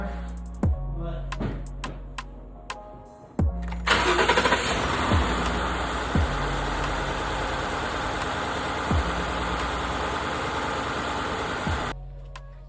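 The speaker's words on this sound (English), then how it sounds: "I'm gonna start the truck. It's gonna misfire" A Ford F-150 with a 5.0 engine cranks with several sharp clicks, then catches and settles into a loud, rough idle with regular uneven thumps from a misfire before cutting off abruptly, heard close and without speech.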